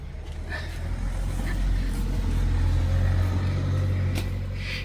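A car drives toward a wedding venue, heard from inside as a steady, low engine and road rumble with tyre noise rising and fading gently, with no talk.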